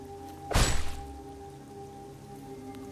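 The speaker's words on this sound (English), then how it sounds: "The rain extinguished the campfire, so I can't rely on the light to guide me." Rain falls in the dark horror survival game Nox Mortalis, a steady wash of patter under a low game hum, broken early by one loud close thump before the rain settles back to an even hiss.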